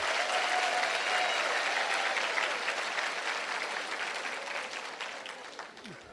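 Sustained audience applause at a spiritist gathering, a dense wash of many hands clapping that fades slowly over several seconds, with no voices on top.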